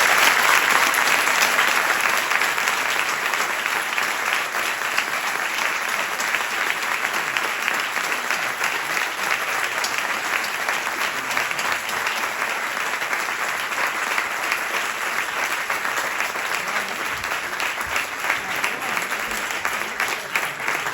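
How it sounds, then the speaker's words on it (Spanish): Audience applause after a lecture on the moons of the solar system, a dense, loud, continuous wash of many hands clapping that holds steady for the full twenty seconds with no speech over it. "Un aplauso muy fuerte para él."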